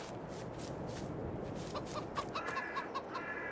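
Farm chickens in Farming Simulator 22 cluck and chatter in a steady stream, with a few sharper calls rising near the end over a constant ambient background.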